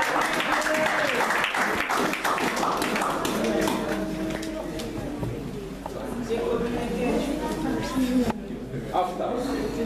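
A church congregation claps and cheers, with scattered, uneven clapping over a steady murmur and voices talking throughout.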